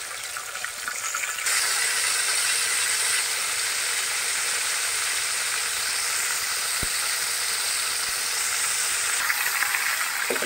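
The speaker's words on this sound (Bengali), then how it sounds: "এবার আমি আমার তেলের ভিতরে আমার মাছগুলোকে দিয়ে দিব" Fish dropped into hot oil sets off a loud, steady sizzle and hiss that jumps up after the first second and holds evenly to the end, with no talking.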